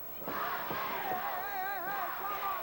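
An enthusiastic wrestling crowd in Fort Worth cheers and whoops at a moderate distance, a steady roar with shrill individual yells rising above it throughout.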